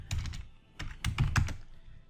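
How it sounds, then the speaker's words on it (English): Typing on a computer keyboard while editing a Microsoft Word document, a close run of quick key clicks in two short bursts with a brief pause between them, no talking. "My typing is so shit."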